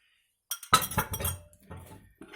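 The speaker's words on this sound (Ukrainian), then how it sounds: "Потім вилкою трошки яйце зіб'ю і теж додаю туди" A fork knocking and clinking against a bowl while beating an egg for crepe batter, a quick burst of close rattling taps followed by a few lighter clinks after a short pause, no talking.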